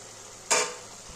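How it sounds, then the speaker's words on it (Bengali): Brief stir of a small fish curry with potato and eggplant in a pan, one soft sizzling scrape that rises suddenly and fades over half a second, close and alone. "এবারে সামান্য একটু নেড়ে দেব।"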